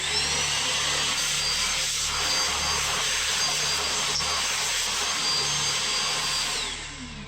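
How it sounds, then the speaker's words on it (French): A vacuum cleaner runs steadily, loud and close, with a constant motor roar and whine as it cleans out an Aduro wood-burning stove during sweeping and dismantling of its vermiculite panels, tapering slightly at the end. "je vais foutre un coup d'aspirateur là-dedans"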